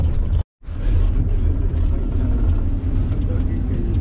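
Car driving back to the starting point of a kayaking trip on the Mała Panew river, giving a loud continuous rumble of engine and road noise with one brief dropout near the start.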